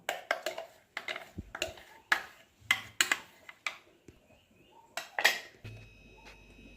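Jackfruit paste scraped out of a steel mixer jar into a bowl: a run of sharp metallic clinks and taps, about a dozen evenly spaced strikes, close and fairly loud, with a faint electronic hum at the end.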